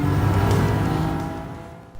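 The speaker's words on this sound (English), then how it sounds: "Howling louder than any other V6 in the market." Maserati MC20 twin-turbo V6 lets out a loud, close rev that peaks at once and gradually fades over two seconds, with no talking over it.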